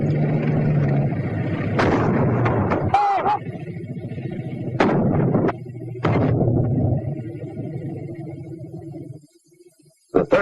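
A WW2 37mm anti-tank gun fires several loud, sharp blasts with echoing rumble, spaced a few seconds apart over a steady low background, with someone narrating over them.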